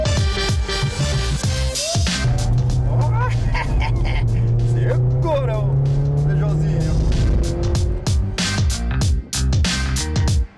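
A 1998 Peugeot 306 GTi-6 with its V6 engine drives hard, revving loudly and climbing through gear changes, with tire noise throughout; someone speaks over the engine.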